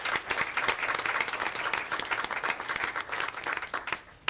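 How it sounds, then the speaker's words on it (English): An audience at a school district board meeting claps in steady, dense applause for several seconds, fairly close and uninterrupted, tapering slightly at the end. "we're going to have a big round of applause for Miss Leah Ann Bolton"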